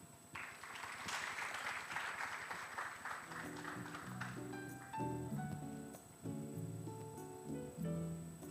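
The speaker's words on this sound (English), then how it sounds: "She definitely deserves a bigger hand clap than that." Applause at an awards ceremony, the Uganda National Journalism Awards, starts as a moderate spread of clapping in the first few seconds, then thins and fades as band music with sustained tones takes over the hall.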